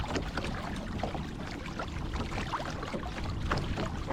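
A 2021 Hobie Mirage Compass kayak cutting through slight chop, with continuous close water splashing and lapping against the hull mixed with light wind noise.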